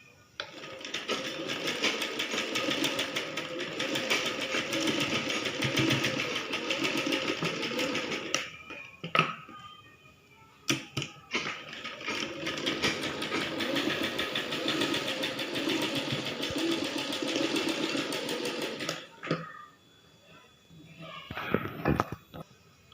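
A sewing machine stitches the shoulder seams of a baby frock in two long runs of rapid, steady mechanical chatter, separated by brief pauses with handling clicks.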